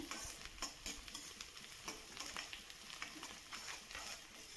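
Onions and green chillies frying in a pan while being stirred, a quiet sizzle broken by frequent scraping and clinking strokes of a spoon, soft and close with no talk.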